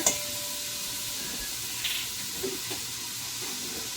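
Minced garlic sizzling in a pan for goulash, a quiet, steady hiss of frying with a few light clicks, no voices.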